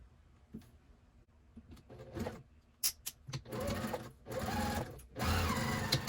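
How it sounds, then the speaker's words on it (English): A sewing machine stitches a quarter-inch seam on a fabric bin: a few slow, quiet needle clicks, then bursts of fast, steady whirring stitching up close, separated by short pauses. "we'll go ahead and sew that at a 1/4 inch seam allowance"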